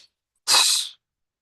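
One short, loud sneeze bursts out close by, surrounded by silence.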